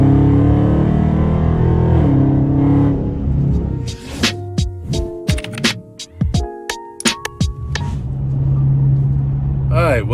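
A 2021 Dodge Charger Scat Pack fitted with 5-inch Carven exhaust tips idles with a deep, close rumble, which breaks into a few seconds of sharp clicks and bursts before the steady low drone returns.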